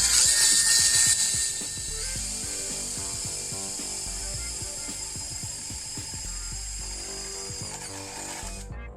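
A power drill bores holes through scrap metal with a steady grinding whine that runs for about eight seconds, loudest at the start and then evening out before it stops.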